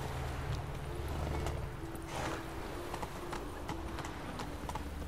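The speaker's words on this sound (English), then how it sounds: "Man on a horse coming through." A horse's hooves clip-clop steadily through a crowded street in The Witcher 3: Wild Hunt, a continuous rhythmic trot close up under a busy background bed, with no speech.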